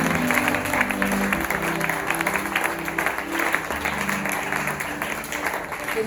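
A church congregation claps and cheers in sustained, steady applause that fills the room evenly from start to finish, with a hum of crowd noise underneath.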